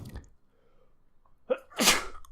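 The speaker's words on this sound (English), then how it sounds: "Had a sneeze." A single person's sneeze, close and loud, with a sharp intake of breath just before the burst and a short quiet gap between them.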